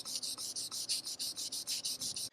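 Fingers rubbing back and forth over a car wheel rim sanded smooth with 400-grit paper to level curb rash, a close, steady series of about a dozen quick raspy strokes, then stopping.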